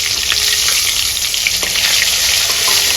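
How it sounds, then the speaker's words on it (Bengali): Two pieces of Shorputi fish fry in hot oil with a steady, close, busy sizzle and crackle. No one speaks. "এখানে আমি 2 পিস মাছ ভাজি করার জন্য তেলে দিয়ে দিয়েছি।"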